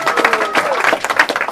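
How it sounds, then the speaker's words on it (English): Applause breaks out at a holiday open house in a district office, a short burst of scattered clapping from a modest indoor crowd, with murmuring voices underneath. "Let's give them a round of applause"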